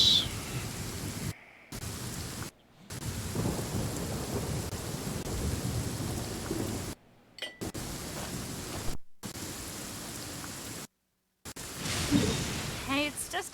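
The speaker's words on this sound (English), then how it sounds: "it's just a little lightning" Thunder rumbles over steady rain in the video game Genshin Impact, a dense wash of noise broken by several brief silent gaps, with a crackling burst near the end.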